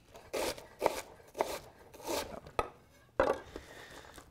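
Quarter of a white cabbage sliced into thin shards with a knife, giving a run of separate crisp crunchy cuts in an uneven rhythm, close and fairly quiet.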